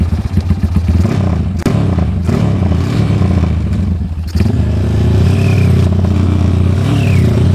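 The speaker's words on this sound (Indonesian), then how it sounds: "Gasnya agak terlalu tinggi, dan untuk suara knalpotnya ini agak ramah lingkungan" A Honda Tiger motorcycle idles loud and close with the throttle held high, a steady raised exhaust drone carrying a few thumps and clatters through the run.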